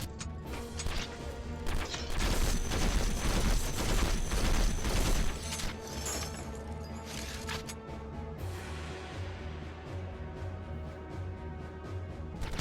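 Gunfire crackles through a battle in the video game Conflict: Desert Storm, with bursts of sharp shots and crashing impacts, loudest early on, then thinning into scattered pops over a steady game soundtrack.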